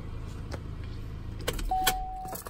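A 2013 Chevrolet Malibu LT sedan being switched off, a low engine idle cutting out followed by clicks, a brief electric whine and a faint key jingle, close by, no talking.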